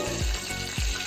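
Fresh grated coconut fries in ghee with a dense, even sizzle, two low stirring thumps rising from under the crackle.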